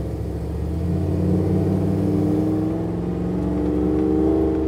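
A Chevy L83 V8 engine swapped into a Land Rover runs steadily at about 500 RPM idle with a deep, throbbing rumble, close and loud, holding a low idle throughout.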